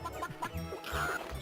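Game chickens in Gex 3 cluck in a short burst of nasal, squawky calls inside a giant house level, moderately loud and close over faint game background.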